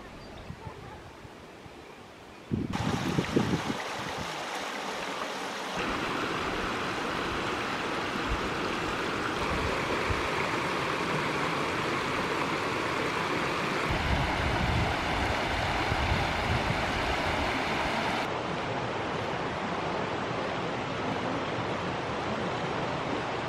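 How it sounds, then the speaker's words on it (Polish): A stream flows through a mountain marsh on the trail to Śnieżka, giving a steady broadband rushing of water that starts abruptly and continues evenly, fairly close. "W sumie strumień też płynie w tym bagnie."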